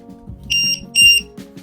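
Two short high-pitched electronic beeps from a battery charger in quick succession, clear and close over a faint low hum.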